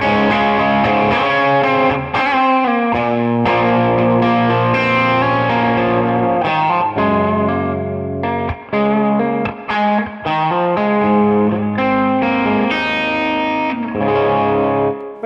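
A semi-hollow electric guitar played through distortion, chorus and other effects, ringing out loud and close in a continuous run of chords and notes with short gaps, with no voices over it.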